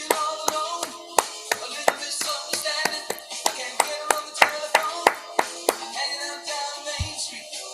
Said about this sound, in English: you're clapping along with the music, but it was like so off